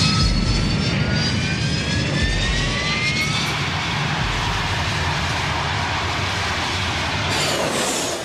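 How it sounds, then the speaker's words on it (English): A Prowler jet on the runway before takeoff, its engine giving a loud, steady roar with rising whine tones, constant throughout. "The Prowler, call sign EZ-01, approaches the runway. EZ-01, you're cleared for takeoff."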